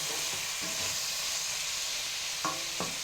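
Sautéing over a medium flame for a cashew rice dish, a constant bright sizzle with a few soft stirring knocks.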